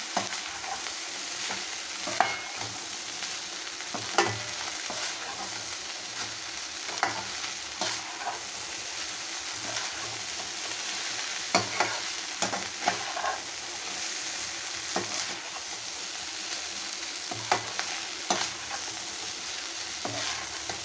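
Beef fried rice stir-frying in a hot pan, a steady loud sizzle with repeated scraping and tossing clatters of the spatula at an irregular rhythm, no voices.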